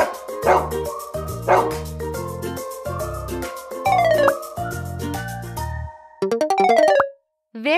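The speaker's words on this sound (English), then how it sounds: "Dog." Dog barking, a string of short, bright yips and barks repeated several times in quick bursts over a simple musical backing, then a final high rising whine.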